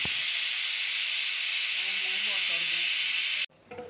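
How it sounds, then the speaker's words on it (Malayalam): A pressure cooker whistles loudly and steadily while cooking sambar, a continuous high steam hiss running for several seconds before cutting off abruptly, followed by a brief clatter. "നമുക്ക് ഒരു വിസിൽ കേൾപ്പിച്ചെടുക്കാം"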